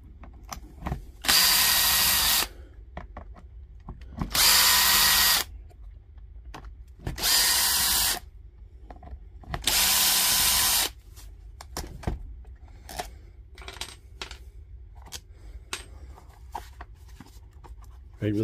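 A power drill unscrews the screws from a battery pack in four loud, whirring bursts of about a second each, separated by pauses. Smaller clicks and handling noises follow.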